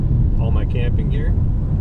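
A car rushes past on a highway near the Wisconsin border, its whoosh rising over the steady, loud road roar and wind buffeting heard from inside a moving vehicle.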